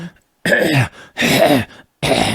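Three gruff, rasping throat clearings, close up and loud, each a short harsh burst separated by brief silences.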